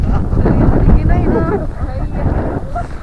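Cold wind buffets the microphone in low, gusty rumbles while a person talks over it close by, in Zao, Japan.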